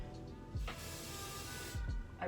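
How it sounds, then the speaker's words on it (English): Eyebrow gel spray misted from a pump bottle during a soft makeup routine, a steady broad hiss lasting about a second, bracketed by faint handling sounds and quiet, close and alone. "I basically gel up my eyebrows using my gel spray."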